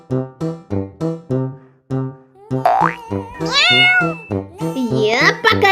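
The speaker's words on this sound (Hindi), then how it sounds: "अरे ये बिल्ली का बच्चा कहाँ चला गया? आवाज तो यहीं से आ रही है।" A kitten meows repeatedly in short, high, rising cries, growing louder and more drawn out toward the end, close by.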